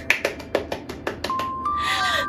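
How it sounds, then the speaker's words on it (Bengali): A family claps hands together in a children's morning routine, a quick run of about eight crisp, evenly spaced claps, close and clear, ending in a bright chiming tone. "চলো এবার আমরা হাততালি দেই।"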